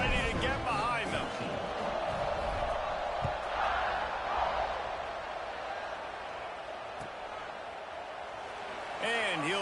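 A college football stadium crowd roars in a steady, dense wash before kickoff, with an announcer's voice heard over it.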